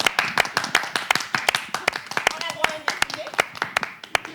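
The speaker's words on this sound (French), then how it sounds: "Oui, applaudissez" Hands clap in a studio for a designer's Afanou collection on a French-language talk show, sharp claps in a fairly steady, slightly uneven rhythm across the whole stretch, close and clear, with faint voices underneath.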